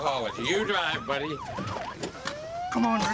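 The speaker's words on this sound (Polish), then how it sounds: "Słyszysz słodki głos syreny?" A police car siren wails in repeated rising and falling sweeps, loud and close, then shifts to a long steady rising tone with traffic noise beneath.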